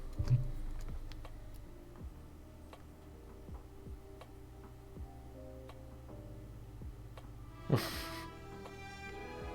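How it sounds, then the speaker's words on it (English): Scattered light clicks of typing on a computer keyboard while messaging on Discord, faint and irregular over a low hum, with a louder brief rustle near the end. "it's rude of me to be typing on Discord while I'm streaming"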